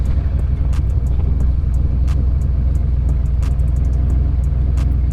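A street car's engine idles steadily after a cold start, giving a loud, close, continuous low rumble with an even throb and no talking.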